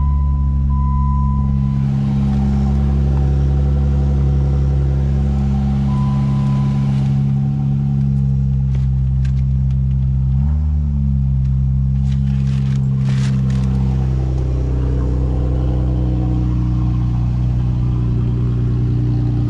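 A jeep engine idles with a deep, throaty rumble through a loud exhaust, rising briefly as it revs, with a few clicks and a high tone over the steady exhaust drone.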